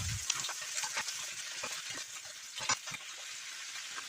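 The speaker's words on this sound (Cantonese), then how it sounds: "炒勻1分鐘。" Bok choy and crab sticks stir-fried over high heat in a wok with oil and ginger shreds: a faint, steady sizzle broken by repeated scraping strokes of the spatula.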